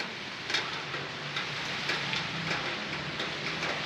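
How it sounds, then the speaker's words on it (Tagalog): Steady rain falls throughout, a dense hiss with scattered droplet ticks, close and fairly loud, with no talking. "Wow, umuulan pa."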